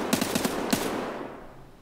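Rapid bursts of SA58 battle rifle fire in Escape from Tarkov, a quick string of four sharp shots and then one more, loud and close, with a ringing tail that fades into quiet.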